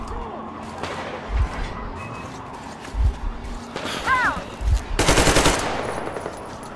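Gunfire in the video game Metro Exodus, rapid bursts and single shots with impacts and whooshes, ending in a loud sustained burst, with someone speaking at points.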